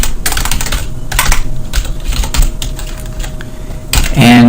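Close computer keyboard typing comes in quick bursts of clicks and key taps separated by short pauses, loud and dry with no voices.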